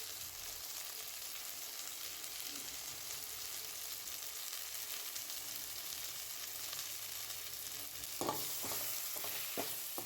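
A quiet, even sizzle comes from a pan of gongura chutney base with turmeric and salt, then a short burst of spoon scrapes and knocks near the end as everything gets stirred, with no voices.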